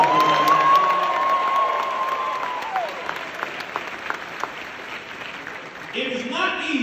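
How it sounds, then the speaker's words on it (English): An expo crowd claps and cheers after a speech at the FBA Expo. The loud, dense applause slowly thins as scattered claps and shouts continue, with a voice talking near the end. "a wonderful round of applause"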